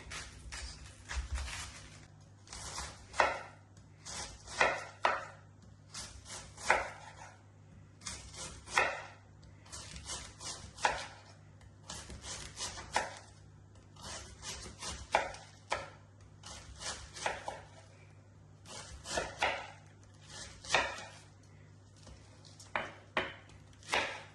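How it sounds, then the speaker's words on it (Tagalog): A knife chops red cabbage on a cutting board with steady, repeated sharp knocks close by, coming in runs with short pauses across the stretch in a home kitchen. "i-chop na natin yung red cabbage"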